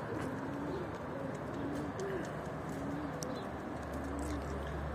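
Pigeons, including a hen clinging to wires, coo in low repeated phrases at a moderate distance against steady background noise.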